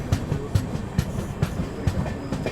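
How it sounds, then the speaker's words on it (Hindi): The Jayanti Janata Express pulls into Jolarpettai Junction, wheels beating a steady close clickety-clack rhythm over the rail joints beneath a continuous rumble. "यहाँ पर अभी अपनी जयंती जनता एक्सप्रेस पहुँच रही है जोलारपेटाई जंक्शन रेलवे स्टेशन पर"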